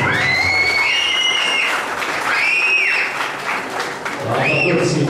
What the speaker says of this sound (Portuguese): os aplausos para Bruna Beng Baltazar